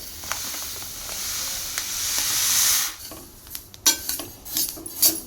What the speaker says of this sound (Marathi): तीळ पण बारीक गॅसवरच भाजून घ्यायचे